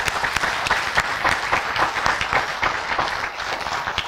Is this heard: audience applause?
yes